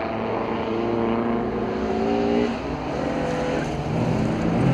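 Rallycross (bilcross) race cars driving, their engines a loud, continuous, droning roar with shifting pitch as several cars rev and pass at fairly close range.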